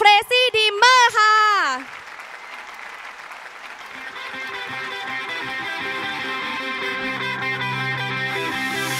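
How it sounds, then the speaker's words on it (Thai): Audience applause at an Amway diamond-level honour pin ceremony in Thailand, a broad steady wash of clapping that follows a voice and runs under the opening of a band's music. "ขอเสียงปรบมือด้วยค่ะ"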